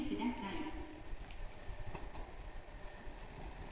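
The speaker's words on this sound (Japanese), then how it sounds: "5番線に列車が到着いたします。" A JR Hokkaido KiHa 283 series Okhotsk limited express diesel train, four cars, rolls into Takikawa Station on the Hakodate Main Line with a steady rumble and faint rail clatter while a platform announcement plays.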